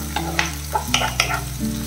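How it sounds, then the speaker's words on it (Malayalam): Shallots and curry leaves sauté in a pan for Kerala-style chicken perattu, giving a loud, close sizzle with several quick stirring scrapes and spatula knocks over a low steady hum. "നമുക്ക് കുറച്ച് കറിവേപ്പില നല്ലപോലെ വഴറ്റിയെടുക്കാം"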